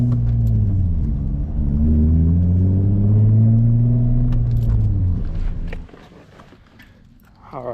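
A 2003 Nissan 350Z's engine drones loudly and close while driving, its pitch rising and falling steadily before dropping off to a quieter idle near the end.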